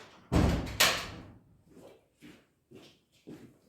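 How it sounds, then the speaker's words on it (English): Two loud, near bangs of old doors in strong wind in quick succession, followed by several softer thumps and rattles spaced out. "And the old doors are banging"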